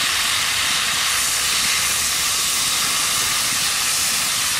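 Water hits a hot pan holding pumpkin, turmeric, salt and fried katla fish for a curry, giving a loud, continuous steamy hiss that stays even and unbroken throughout.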